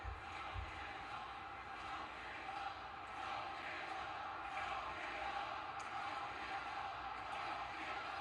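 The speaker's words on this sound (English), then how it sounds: "The crowd is cheering, don't give up." A wrestling arena crowd at a WWE Saturday Night Main Event roars in a steady, dense wash of cheering that holds throughout, distant and continuous.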